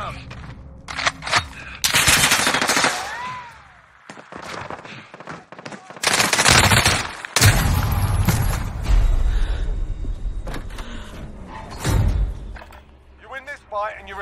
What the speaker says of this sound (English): I'm under fire. I need patching up.